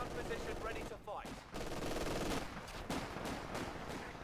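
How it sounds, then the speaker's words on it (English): An MG42 machine gun fires in a Company of Heroes 2 battle, with rattling bursts of rapid gunfire amid other battlefield noise, moderately loud and continuous. "We also have an MG42 shooting kind of backwards right now"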